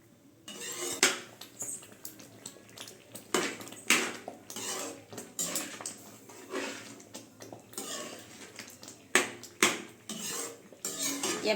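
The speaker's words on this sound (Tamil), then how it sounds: "நல்லா மிக்ஸ் பண்ணி விட்டுக்கலாம்" A spoon scrapes and clinks against a pot as a sweet mixture is stirred over the stove, in irregular bursts of metallic knocks and scraping strokes, close and moderately loud.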